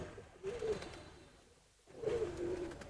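A pigeon, a lively hen, coos softly nearby, two low, throaty coos separated by a brief quiet pause.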